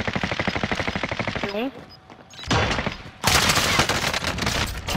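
Rapid automatic gunfire from a Bruen rifle in a first-person shooter video game rattles in a fast, steady stream, then breaks off briefly before another dense burst resumes, with players chatting alongside.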